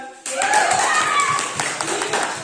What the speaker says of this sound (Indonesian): Beri aplaus dulu ya